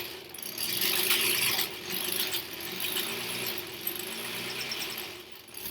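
A sewing machine stitches foundation paper piecing for a quilt block, a fast continuous mechanical whirr and clatter that swells and eases as the fabric runs through, close by with no talking.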